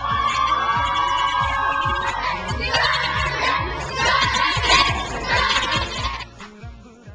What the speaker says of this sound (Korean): 그들이 탄 차가 도착하자 팬들이 환호하기 시작한다.